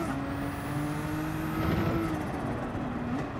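A Mercedes-AMG race car's turbocharged engine in Gran Turismo 7, heard in a steady close drone with rising and falling engine tones and a brief whistling turbo-like shift, alone without talk.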